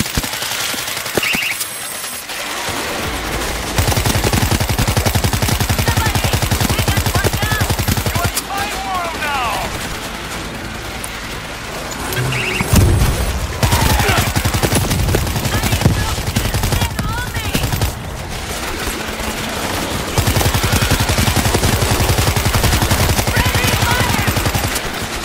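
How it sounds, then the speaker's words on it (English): Dense gunfire in the zombie shooter World War Z, with heavy bursts and repeated explosive launcher-type shots through continuous chaotic combat noise, interrupted by brief quieter gaps. "Launcher shots!"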